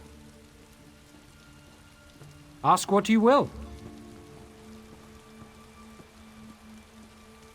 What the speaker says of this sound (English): I could do without this damnable rain.